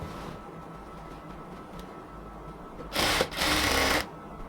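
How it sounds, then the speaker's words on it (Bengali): Sewing machine stitching a salwar waistband alongside the elastic, two short bursts of loud, steady mechanical whirring separated by a brief pause, close up. "কোমরটাকে আমরা আস্তে আস্তে ধরে ধরে এলাস্টিকের পাশ দিয়ে সেলাই করতেছি"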